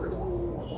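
A single short, low pigeon coo on a pigeon farm, heard close and alone.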